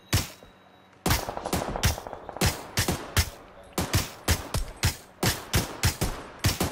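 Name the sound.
gunshots in PUBG video game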